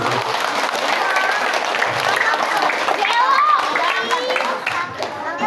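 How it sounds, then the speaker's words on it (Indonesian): Audience of children and adults at a Quran learning center applauding for the teachers, a loud continuous clapping with crowd voices and children's chatter mixed in throughout. "Tepuk tangan untuk Bapak dan Ibu guru."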